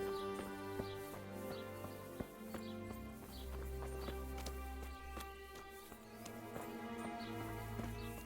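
Horse hooves clip-clopping at a steady riding pace in the medieval video game Kingdom Come: Deliverance, soft and low in level beneath sustained background music with scattered sharper hoof strikes.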